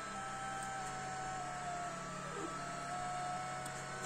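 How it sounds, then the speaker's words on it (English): An air compressor beside a CNC 3018 laser engraver runs with a constant, even hum and faint hiss, steady and moderately quiet, with no talk. "Compressor."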